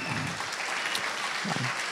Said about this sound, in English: Always leave when they're applauding.